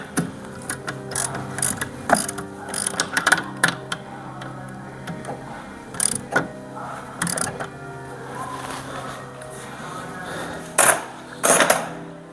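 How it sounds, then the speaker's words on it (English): Wiper arm nuts being hand-tightened back onto the spindles of a Ford Focus after a windscreen replacement, heard as scattered close metallic clicks and ratcheting rattles with pauses between them, and a couple of louder clatters near the end. "Just tighten the nuts back up. Hand tight, you don't need to put too much pressure on them."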